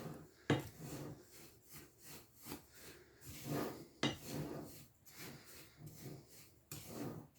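Dry semolina and sugar being stirred together in a bowl, giving soft repeated scraping and rubbing strokes with occasional firmer knocks against the bowl, close and fairly quiet, with no talking.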